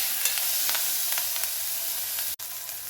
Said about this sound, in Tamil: நல்லா வெண்டைக்காய் குக்காக வரைக்கும் நம்ம வதக்கி எடுத்துடலாம்